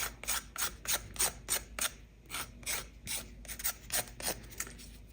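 A thick file rasps over small ridges in quick repeated strokes, each a crisp scraping burst with short gaps between, close and fairly quiet with no voices.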